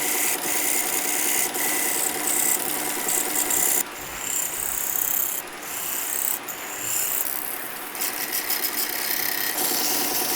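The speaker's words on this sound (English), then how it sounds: "So I got my scraper, scrape off this solder." Harsh, rapid scraping of a metal scraper removing solder from a brass French horn bell, a gritty rasping that pauses and resumes in uneven strokes, close and loud.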